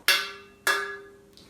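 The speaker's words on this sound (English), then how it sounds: "Good little ding there." Metal trombone struck twice, each hit a bright ringing ding that decays slowly, close and clear with no talk, followed by a faint soft tap.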